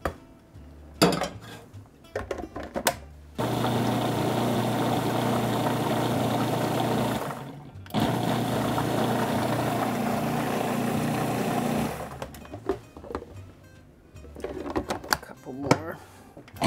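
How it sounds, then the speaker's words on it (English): Food processor pulsing raspberry coulis, the motor whirring loudly in two sustained bursts with a short pause between, surrounded by brief clattering handling noises before and after. "I'm going to actually put it in the food processor and run it all together for just a few pulses."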